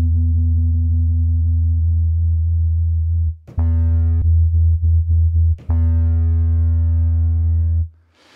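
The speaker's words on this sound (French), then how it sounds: "quand je joue fort, effectivement, vous entendez le filtre qui s'ouvre" Synthesizer playing a steady, loud sustained tone whose upper harmonics brighten and open during harder-pressed stretches, with brief staccato breaks and gaps between held notes.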